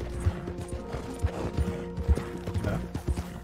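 Horse hooves in the video game Red Dead Redemption 2 clopping in a steady walking rhythm, close and moderately loud, over soft game background sound.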